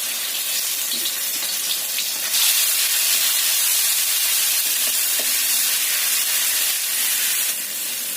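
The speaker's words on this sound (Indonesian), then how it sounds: "Kita tumis bumbu halusnya sampai tercium bau enak." Ground garlic and shallot spice paste sautés in a pan for tofu dishes, giving a steady, dense, loud sizzling hiss that runs unbroken throughout with no voices.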